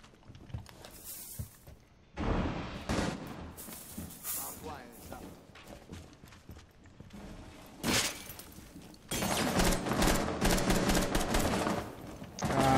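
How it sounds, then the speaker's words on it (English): Bursts of automatic gunfire and single shots in the multiplayer shooter Rainbow Six Siege, coming in irregular volleys, with a dense, sustained barrage near the end, while a player talks over them. "They're shooting out there."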